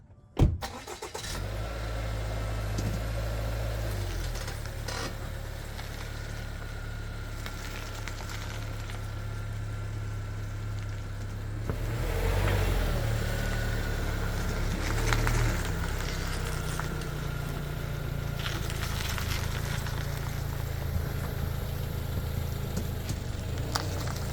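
Subaru fitted with Mickey Thompson Baja Boss AT tires and pushed-in fenders, heard from inside while driving: a steady low engine and road rumble that grows slightly louder about halfway through.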